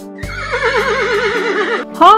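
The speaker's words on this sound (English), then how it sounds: "Horse." A toy horse's recorded neigh plays loud and close, a long wavering whinny over a low rumble, followed by a second shorter whinny at the end.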